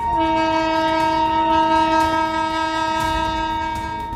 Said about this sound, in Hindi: रेलवे ट्रैक पर शक्तिपुंज एक्सप्रेस पूरी रफ्तार से दौड़ी चली आ रही है, बार बार हॉर्न बजा रही है